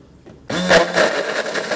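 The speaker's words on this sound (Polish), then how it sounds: "No dobra, do blendera." A blender suddenly whirs to life after a quiet moment, loud and close, grinding frozen strawberries with yogurt and brown sugar in a steady buzzing roar.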